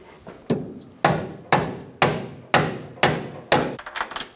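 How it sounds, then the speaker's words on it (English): Eight sharp, evenly spaced thuds from a soft face hammer tapping a front control arm bushing into a Subaru Outback, close and fairly loud, each with a short dull ring, about twice per second. "We're gonna use a soft face hammer to help us install the front bushing."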